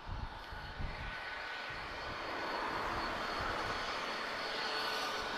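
An airliner flying for TAP departs for Natal as a steady, broad jet engine roar. The roar swells slightly and holds, heard from a distance with no voices.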